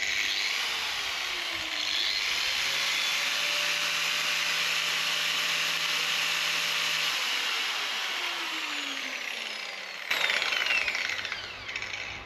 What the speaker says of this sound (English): So let's go ahead and fire the grinder up.